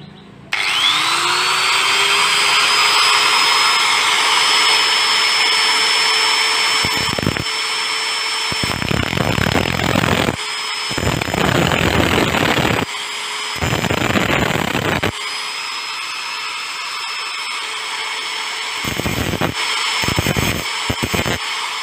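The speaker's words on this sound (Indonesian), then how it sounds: "Sekarang kita tinggal potong untuk bautnya ini pakai gerinda ya." An angle grinder cuts through a bolt on a Honda Beat starter motor, a loud, steady high-pitched whine that dips and surges in repeated bursts as the disc bites the metal, with no talking over it.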